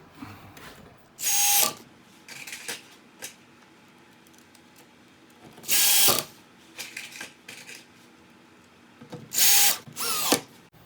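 Black 1-inch screws being driven into a prefab kitchen cabinet, heard as loud, close bursts of whirring driver noise with a ratcheting edge. Quieter handling clicks fill the gaps between the bursts, with no talking.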